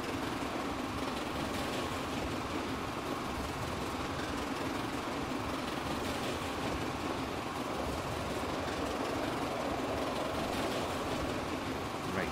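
Steam trains in the Transport Fever game run fast downhill, a continuous loud rumbling roll of wheels and engine with faint rhythmic clatter, steady throughout with no talking.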